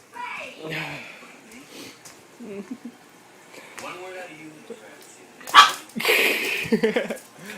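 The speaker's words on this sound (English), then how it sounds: "Dog barks at Ken." A dog barks and yips in short bursts amid whimpering sounds, with people talking around it; the loudest barks come near the end.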